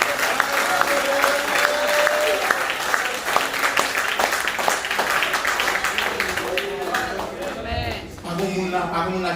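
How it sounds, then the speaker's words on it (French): A church congregation applauds and claps steadily throughout, dense and loud, with voices and singing mixed in beneath the clapping. "applaudis mon Dieu encore"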